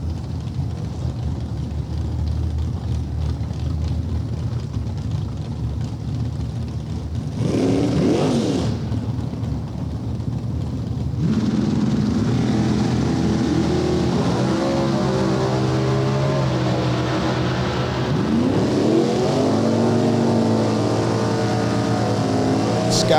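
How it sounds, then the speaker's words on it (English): Drag race cars, a 1998 Grand Am and a 1972 Nova, roar down the track, a loud sustained engine drone with rising revs and bursts of acceleration, and an announcer talks over it. "Scott Stillings, the beautiful 98 Grand Am with an engine that'll just make you smile every time you hear it go down the racetrack."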